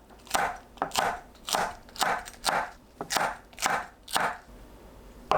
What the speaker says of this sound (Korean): 파와 청양고추를 어슷 썰어 준비합니다.